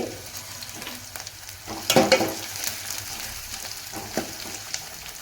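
Chopped onion frying in a pan: a moderate sizzle runs throughout, broken by a louder scraping burst of stirring near the middle and a few lighter stirs afterward.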